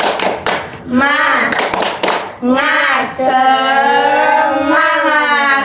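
A classroom group chants in rhythm with sharp hand claps during a micro-teaching lesson, the loud voices sung in unison with claps punctuating the start.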